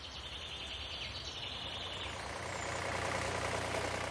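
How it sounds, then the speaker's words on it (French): A farm tractor engine runs steadily on a river island along the Loire near Saumur, a loud, constant low rumble that swells slightly toward the end, with faint birds in the background and no talk. "Le tracteur sert donc aussi de transport en commun."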